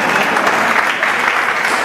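An audience claps loudly and steadily for nearly two seconds, a dense, even wash of applause close by with no pause.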